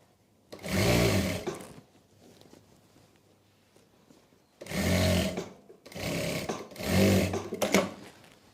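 A sewing machine stitches a salwar belt in three or four bursts of rapid whirring, each lasting about a second, separated by quiet pauses.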